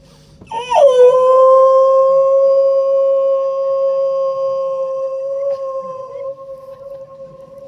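A voice imitates a dog howling: one long, sustained, wavering howl that rises sharply, holds steady and loud for several seconds, then slowly fades near the end.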